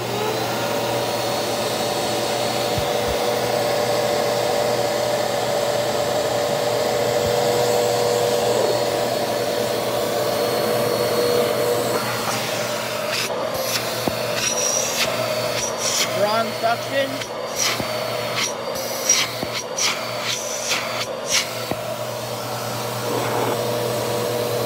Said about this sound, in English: This red switch here, this is what turns the vacuum on.